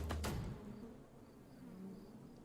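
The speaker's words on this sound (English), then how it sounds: "But suddenly, there were many more bees around me." Buzzing swarm of bees in a video game, a continuous insect drone that starts loud and close and eases slightly, staying steady without any talk.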